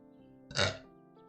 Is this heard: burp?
yes